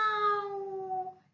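A cat gives a single clear, drawn-out meow, close and loud, fading out at the end with no other sounds around it.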